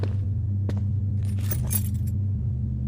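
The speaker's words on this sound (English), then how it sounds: "My keys." A bunch of keys jingles and rattles in the horror game Luto, a brief metallic shake of a few sharp clinks over a steady low rumbling drone.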